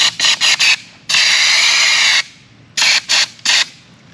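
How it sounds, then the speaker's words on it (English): A paint sprayer blasts thinner through its tip for cleaning, with three short hissing bursts, one long two-second spray, then three more short bursts, loud and close with no talk. "I'm just running the paint sprayer through a thinner"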